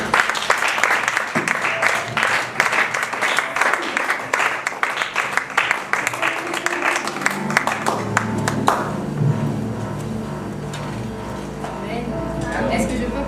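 A church congregation applauds loudly to acclaim the Lord, dense clapping from a large crowd over about eight seconds that then fades into an amplified voice speaking.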